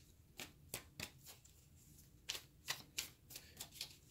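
Tarot cards drawn and shuffled from a deck, a run of crisp papery slaps and flicks in quick irregular bursts, close and fairly quiet with no voice.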